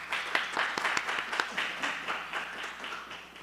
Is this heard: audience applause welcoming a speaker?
yes